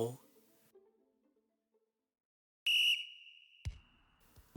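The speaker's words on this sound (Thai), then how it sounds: "สัญญาณนกหวีดเริ่มการแข่งขันเป่าดังขึ้น" A sharp, shrill referee whistle blast starting a match rings out briefly after near silence, followed by a shorter second tweet and faint background sounds.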